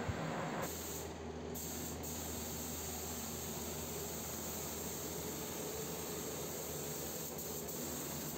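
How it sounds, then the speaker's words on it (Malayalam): Spray gun laying a PU paint coat on a patch-repaired panel: an unbroken, even hiss of atomized spray, close and steady throughout with no talk. "അപ്പോൾ നമ്മളെ ലാസ്റ്റ് വർക്ക് പെയിൻറ്റിങ് കോട്ടിങ് അടിച്ചുകൊണ്ടിരിക്കുകയാണ്."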